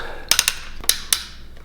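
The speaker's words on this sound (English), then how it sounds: "The swivel ratcheting feels strong." Sharp plastic clicks come from the ratcheting swivel of a portable rechargeable LED work light, about five close, distinct ticks spaced unevenly across under two seconds.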